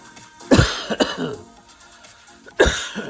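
Two sharp coughs, the first a quick double burst and the second a single loud hack about two seconds later, with faint shuffling between.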